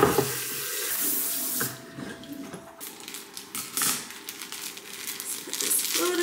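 Tap water runs into a flower vase, a steady splashing stream heard close up with its pitch shifting as the vessel fills, mixed with crinkling of flower wrapping.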